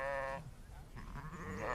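Sheep grazing knapweed on ranch rangeland give a clear, close bleat at the start, followed by quieter rustling and a second, rising bleat at the end, with no talking.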